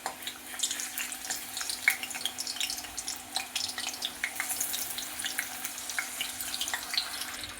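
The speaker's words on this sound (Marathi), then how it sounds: "तेल गरम झालं आहे. आता आपण ते केळी टाकूया त्यामध्ये." Raw banana slices fry in hot oil for homemade chips, giving a quiet, steady crackling sizzle with scattered sharp pops throughout.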